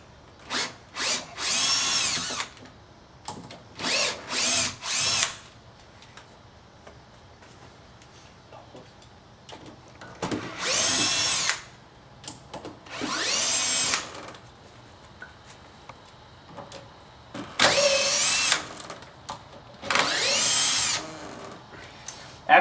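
Power drill backing screws out of a door lock, running in repeated loud bursts of a few seconds each with pauses between, close by.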